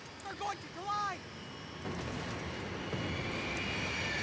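Propeller aircraft engines in the Max Payne 3 video game drone steadily in the background, joined by a rising rush of wind and engine noise, with game voices talking over the opening second.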